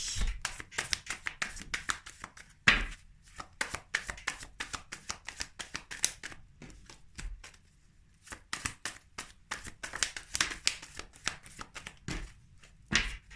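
Tarot cards are shuffled by hand, a long run of quick riffling flutters and soft taps in irregular bursts with short pauses, close and fairly quiet, with no talking.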